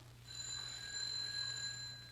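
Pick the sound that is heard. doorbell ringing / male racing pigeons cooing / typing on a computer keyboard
doorbell ringing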